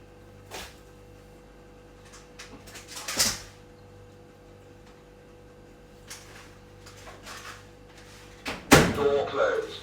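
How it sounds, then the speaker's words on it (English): A microwave door is opened indoors, with a sharp latch click and a louder clunk near the end amid faint handling noises and a steady background hum. "Door open."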